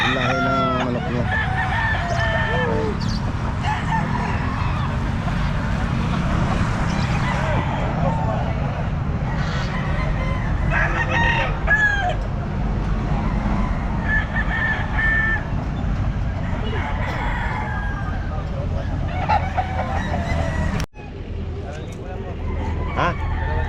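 Roosters crowing repeatedly and chickens clucking at a busy outdoor pet market, several birds close by over a constant crowd and traffic hum, with people talking throughout.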